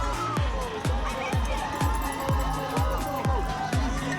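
Spectators crowd the course at a women's C1 cyclocross race in Charm City, cheering a rider on with a steady wash of shouts and noise, while a repeating low thump sounds about every half second.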